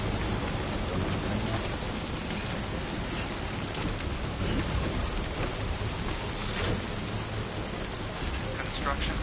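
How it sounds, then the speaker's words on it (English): Heavy rain pours steadily in the video game Death Stranding, a dense continuous wash of drops with occasional low thunder rolling beneath it, loud and unbroken throughout. "Man, this rain is heavy."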